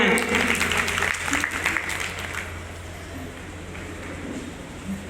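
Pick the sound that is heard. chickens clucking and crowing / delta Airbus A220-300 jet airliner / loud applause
loud applause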